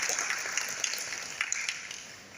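Applause from an audience at a literary event, a short burst of many hands clapping, fairly quiet and slightly distant, with no talk over it.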